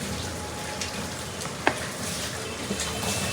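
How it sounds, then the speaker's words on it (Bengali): Potatoes fry in a pan with a little mustard oil, producing a steady, even sizzle like light rain, with an occasional soft tap or clink and no talking. "এই পাশে আমি আলুটা ভাজি।"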